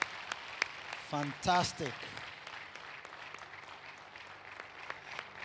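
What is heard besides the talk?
congregation clapping hands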